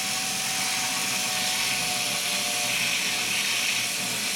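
An electric mixer set to slow speed churns thick gluten-free pumpkin muffin batter, giving a steady, even whir that holds close and constant for the whole stretch with no voices.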